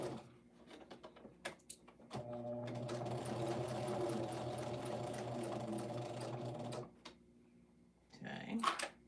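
A sewing machine runs steadily for several seconds while stitching a quilt seam, a loud continuous mechanical whir that starts abruptly, holds even, then stops, with brief handling knocks before and a short voice after.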